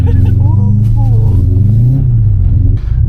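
A Subaru STI accelerates on an ice and snow track, its engine holding a steady, loud mid-range drone with rising tones throughout, and a voice talks over it.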